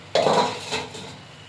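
A single metallic clunk as a wok is set down on a stove, followed by a short ringing decay; no voices.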